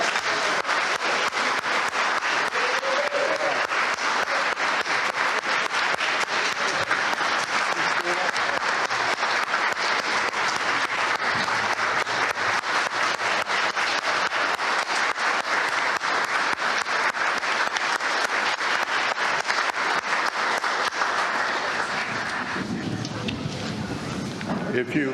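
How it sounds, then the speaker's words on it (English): A church congregation applauds the choir after a worship service of music, with sustained, even clapping for over twenty seconds that tapers off near the end. "offering a round of applause"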